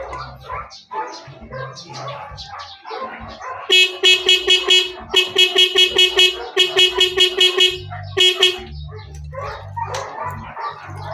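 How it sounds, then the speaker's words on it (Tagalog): A motorized tricycle's horn, tested after a battery change and rewiring, blares in a run of loud, rapid honks in the middle, with someone talking before and after. "testing naman natin is mayroon ng busina siya"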